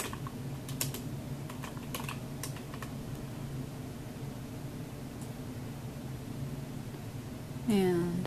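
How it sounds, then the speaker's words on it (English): Keys clack as text is typed on a computer keyboard, scattered close taps over a steady fan-like hum, with a brief voice at the end. "Type it in."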